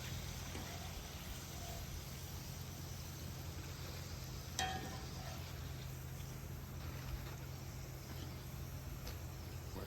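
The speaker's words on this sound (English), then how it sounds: "We've got our second batch of onion rings going" Onion rings fry on a flat top grill set to low, a soft, steady sizzle like light rain that runs the whole time, with one sharp utensil click partway through and no talking.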